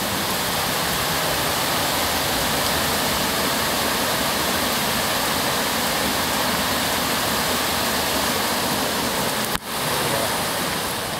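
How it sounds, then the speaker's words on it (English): A small backyard creek swollen by heavy rain rushes like a gusher, a loud, continuous roar of churning water heard up close and unbroken for the whole stretch. "Let me show you what our little crick does when it rains a lot."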